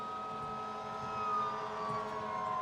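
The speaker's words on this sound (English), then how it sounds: "See, we got an ambulance going, or a fire truck going by." Ambulance or fire truck siren passing by outdoors, a steady wailing tone slowly sliding downward in pitch, distant and fairly faint over low traffic rumble.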